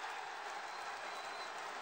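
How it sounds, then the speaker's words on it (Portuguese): A small football crowd applauds in a stadium, a steady wash of clapping with no breaks, faint and distant, with no talk over it. "a torcida, mesmo pequena, aplaude"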